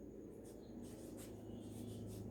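Chalk or marker writing on a board during an accounting lecture, faint scratchy strokes in short bursts over a steady background hum.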